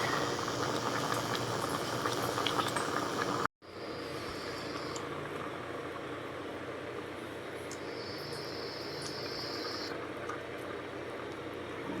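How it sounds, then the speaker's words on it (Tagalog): Steady bubbling roar of a pot of fish soup with lemongrass at a rolling boil, continuous and close, with a brief cut partway through. "Kumukulo na siya."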